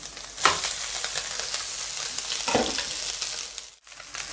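Cooked rice being added and stir-fried with egg and pepper, a close, steady sizzle with scraping stirs at the start and near the middle, then a brief drop before the frying resumes.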